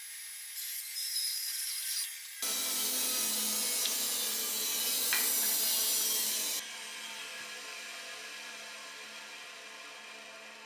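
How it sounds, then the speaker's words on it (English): A bandsaw cuts wood held in a jig. The motor hums, then the blade bites in with a loud, steady rasping cut for several seconds before dropping back to a quieter running whine. "Then we go back to the bandsaw, and now we're going to cut our opposite side"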